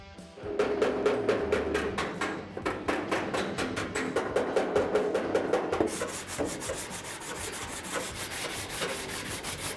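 Rapid repeated tapping and rubbing on 1967-72 Chevrolet C10 cab sheet metal as a dent is massaged out, with a quick steady rhythm of close, moderately loud strikes that turns into a smoother scraping rub near the end.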